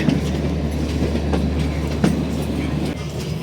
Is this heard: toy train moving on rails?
yes